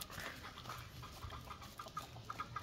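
Chickens cluck softly in a farmyard near a six-day-old baby goat, a few faint, scattered calls over a quiet, steady background.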